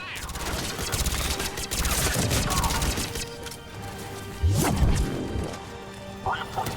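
Gunfire rattles during an attack in Mass Effect 3, with rapid bursts of shots, whooshes and crashing impacts, mixed with voices talking over the fighting.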